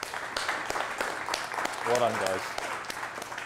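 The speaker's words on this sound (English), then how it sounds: "So I think that deserves a round of applause" Moderate audience applause at a conference keynote, steady clapping throughout while a voice speaks briefly over it.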